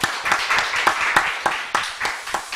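A church congregation claps during a Sunday afternoon Bible memorization quiz service, giving sparse, distinct claps that gather into a loose rhythm of separate hand strikes rather than a dense roar.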